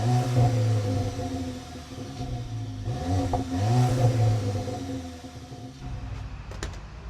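Volkswagen Polo GTI with a 2-litre turbocharged engine idling then revving sharply twice in quick succession, each blip rising and falling, before dropping back to a quieter idle close by.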